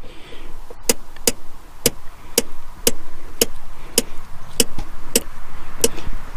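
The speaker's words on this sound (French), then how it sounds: "on va tirer le frein à main et on va voir un petit peu combien on a de crans" A Peugeot 106 handbrake ratchet clicks about a dozen times in an even rhythm, each sharp click close and distinct, the lever pulled to its limit before cable adjustment.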